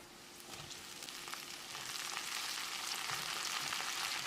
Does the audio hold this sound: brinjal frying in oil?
yes